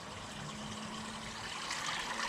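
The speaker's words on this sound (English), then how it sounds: "we had bubbles coming out of the pump outlet, and there you have, you can just see them, bubbles coming out" Bubbles and water spilling from a koi pond pump outlet, a soft steady trickle and fizz with a faint low hum underneath, fairly quiet and unbroken.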